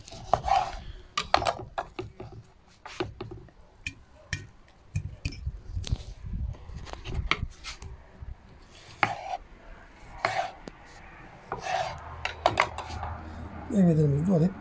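Repeated knife chops on a cutting board as cactus fruit is cut up, irregular and close, with people talking quietly over the steady tapping.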